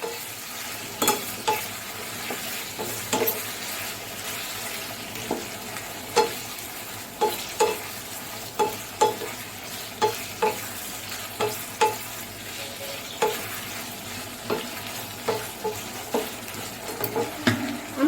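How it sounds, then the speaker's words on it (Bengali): Bottle gourd and papaya tossed with spice paste in a pan on a low-to-medium gas flame: a steady run of spoon scrapes and knocks repeats against the metal over a gentle sizzle, close and with no talking. "এবার এটাকে আমি ভালো করে মিশিয়ে দেব"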